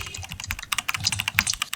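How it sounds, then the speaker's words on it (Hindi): Quick typing on a mechanical keyboard, a fast, close, dense run of crisp key clacks with no pauses. "यहाँ पे क्विक मैकेनिकल कीबोर्ड है। इसे मैं प्ले करके देखता हूँ।"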